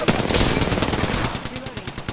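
Sustained rapid automatic gunfire from a gun in the video game Apex Legends, loud and close, with the shots running steadily throughout and a voice briefly underneath.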